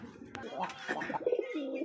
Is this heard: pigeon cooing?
yes